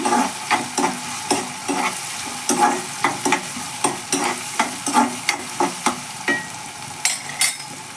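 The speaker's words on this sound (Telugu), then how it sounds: "ఆనియన్స్ అయితే కట్ చేసేసుకుని ఫ్రై చేసుకుంటాను." Chopped onions frying in a pan, a steady sizzle broken by regular scraping strokes of a spatula, close and fairly loud with no talking.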